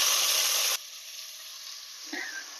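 Onion dropped into hot oil for a beef curry sends up a loud, dense sizzle that drops after a moment to a steadier, quieter frying hiss with a faint clink near the end.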